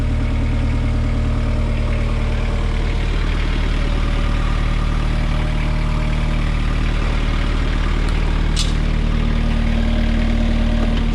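A Kubota 4-cylinder diesel engine idles on a Toro Reelmaster 5410 mower, a steady, loud, low rumble that holds even throughout with no change in pace, heard close and alone.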